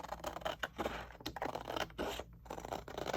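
Scissors snip and slide through a sheet of printed paper, a close, dry crunching and scraping in quick uneven strokes with brief pauses and no talking.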